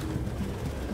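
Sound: pigeons cooing in video game Detroit Become Human

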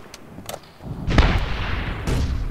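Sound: grenade explosion in Call of Duty video game

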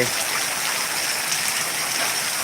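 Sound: heavy rain and flowing water

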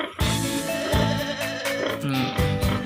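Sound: goats bleating

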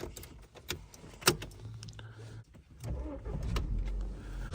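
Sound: VW Scirocco 1.4 TSI engine starting

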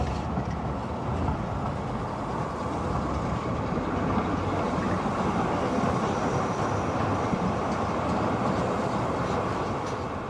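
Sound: Tatra T3D tram running

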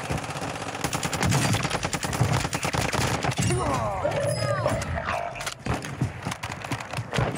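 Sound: sniper rifle gunshots in the video game Warzone

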